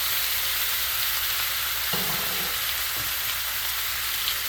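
Vinegar and soy sauce sizzle in a hot pan of chicken, giving a loud, continuous hissing fry with a couple of brief clunks from stirring or pouring partway through.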